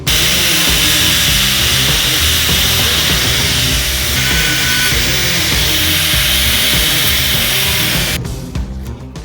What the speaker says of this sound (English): we'll cut our spacers to length